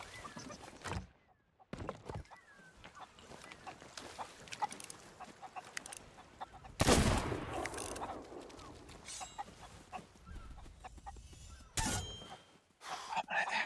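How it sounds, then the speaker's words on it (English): Chicken clucks and fowl calls in a survival video game, heard among mixed game sounds, bursts of noise and movement, at moderate loudness with no clear talk. "I'm gonna axe your chicken."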